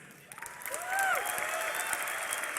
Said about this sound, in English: let's get some more noise out of the crowd.